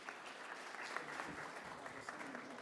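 Audience applause for a panel of speakers at an event on sustainability and ethics, a steady soft patter of clapping from a moderate-sized crowd lasting throughout, fairly distant and even.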